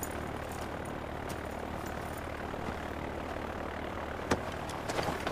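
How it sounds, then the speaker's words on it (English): An airplane takes off in the Far Cry 4 video game, a loud, steady propeller-engine drone that holds throughout with a few sharp clicks near the end and no voices. "The one in the plane that's about to take off."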